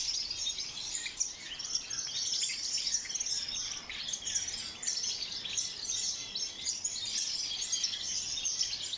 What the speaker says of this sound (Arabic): الشرشور، طائر الشرشور.